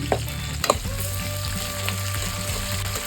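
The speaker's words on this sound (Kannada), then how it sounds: "ಇದೆಲ್ಲ ಒಂದು 2 ನಿಮಿಷ ಎಣ್ಣೆಯಲ್ಲಿ ಚೆನ್ನಾಗಿ ಫ್ರೈ ಆಗಲಿ" Curry leaves and coconut fry in hot oil for Mysore-style bisi bele bath, a steady close sizzle broken by a few sharp stirring scrapes early on, with no talking.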